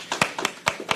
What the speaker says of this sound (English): A round of applause for Mr. Thomas, please